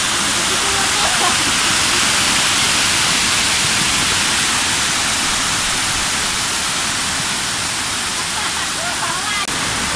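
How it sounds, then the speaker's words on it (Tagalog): A loud, constant roar of falling water at Himanag Falls fills the whole stretch, a dense rushing wash with no breaks. "Sobrang relaxing yung sound ng falls."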